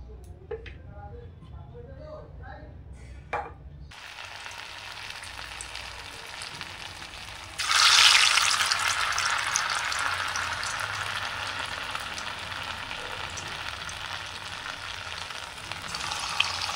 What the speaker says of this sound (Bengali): এবার গ্যাসটা কড়াটা গরম হয়ে গেছে, ভাজার জন্য আমি তেল দিচ্ছি।